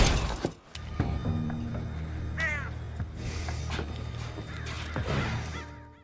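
Window glass shatters when a bird strikes it in a film scene, a sharp crash followed by scattered breaking debris and a brief bird-like cry, all set against a dense, rumbling soundtrack.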